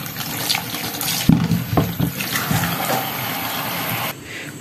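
Water runs from a kitchen tap as potatoes are rinsed, a steady splashing hiss with a few louder splatters and knocks from the potatoes, then the flow drops off near the end; no one speaks.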